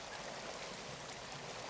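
A rushing river current in a forest wilderness, a continuous broadband wash of flowing water, steady and faint, with no other sounds.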